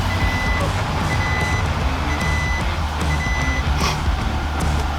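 A 2020 Isuzu NPR-HD box truck engine idles after a cold start with a steady low rumble while a backup alarm beeps repeatedly at a regular pace over it.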